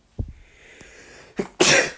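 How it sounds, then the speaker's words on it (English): A person sneezes close to the microphone, a short sharp intake followed by a loud explosive burst, with a smaller throat noise just before. "Sorry, I needed to sneeze there."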